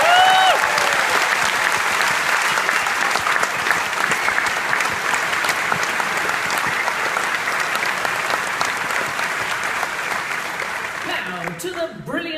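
Graduation ceremony audience at Portsmouth University breaking into loud, sustained applause that fills the hall, dense clapping fading slightly toward the end as a voice returns.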